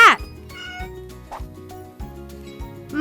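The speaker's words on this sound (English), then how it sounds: "It's a cat." A cat meows twice, short and clear, at the start and end, over a steady rhythmic children's music backing.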